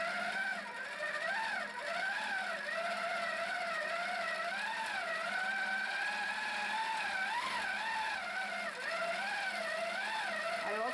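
A Singer Featherweight sewing machine runs steadily while quilting a meandering stitch, giving a continuous close hum whose pitch rises and falls as the speed changes, with no pauses.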